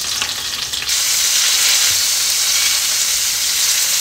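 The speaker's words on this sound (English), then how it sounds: "Let's see if we can get a hard sear with hex clad." Chicken dredged in flour searing in a HexClad pan with avocado oil and butter, a loud, steady hiss and crackle of frying close up, with no talk.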